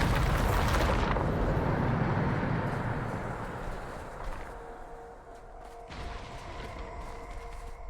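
A loud Bombarda blast spell effect from a video game, erupting in a dense rumbling burst at the start that fades into a long decaying crackle and low mechanical hum, no voices.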